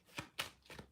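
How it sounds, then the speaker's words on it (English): Tarot cards being shuffled by hand in quiet surroundings, with three soft, brief riffling bursts spaced through the second at low volume and no talk. "Just while I'm shuffling."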